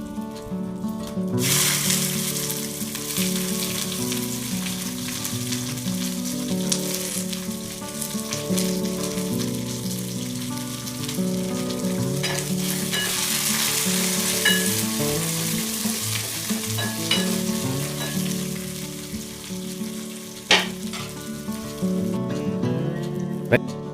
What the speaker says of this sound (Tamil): கருவேப்பில் போட்டுக்கலாம் அப்படியே நம்ம வெங்காயத்தையும் போட்டுக்கலாம்